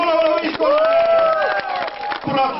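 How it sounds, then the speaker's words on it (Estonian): A crowd applauds both teams at a 2002 railway handcar race, with clapping mixed with cheering and whooping voices, loud and close. "aplaus mõlemale võistkonnale"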